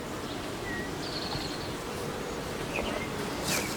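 Honey bees buzzing around an open beehive during an inspection, a dense, continuous hum with a few brief higher insect whines passing close by.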